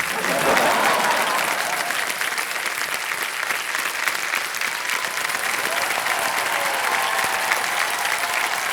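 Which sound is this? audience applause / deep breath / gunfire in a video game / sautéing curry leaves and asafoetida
audience applause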